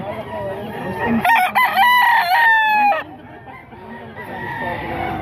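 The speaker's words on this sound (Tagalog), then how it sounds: "Gandang manok na to" A loud, close rooster crow from a Bulik Talisay gamecock rings out for about two seconds, rising and then trailing off, with quieter clucking and background noise around it.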